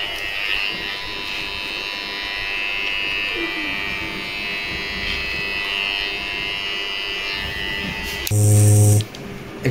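An electric zero trimmer cutting the rounded edges of a beard gives off a steady, close buzzing hum. A brief louder tonal buzz comes near the end.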